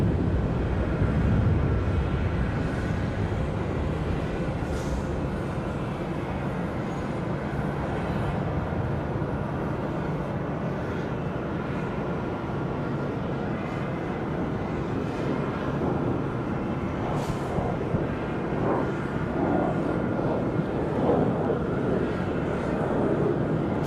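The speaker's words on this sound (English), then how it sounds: "Gonna give us rapid fire departures here. Looks like an CRJ, ERJ up next." An ERJ regional jet departs Charlotte Douglas International Airport on a windy day, giving a continuous, moderately loud engine rumble with gusty wind noise over the microphone and no talking.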